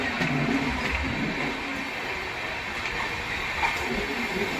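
Swaraj Express 12471 standing at Phagwara Junction station, a steady broadband rumble and hiss of the train and platform surroundings, continuous and fairly loud throughout with no clear wheel clatter.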